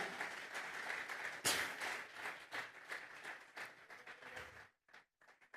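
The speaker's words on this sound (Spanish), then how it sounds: "Vamos a regalarle ofrenda de palmas al Dios de la gloria." A church congregation applauds for a Sunday morning service: dense, steady clapping fills the room for about four and a half seconds, then cuts off, leaving a few scattered claps and brief voices.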